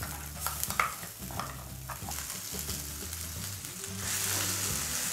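Green pea paste sizzles and fries in hot oil with asafoetida in a kadai, stirred with a utensil scraping the pan, steady close crackle that swells louder toward the end, no talking.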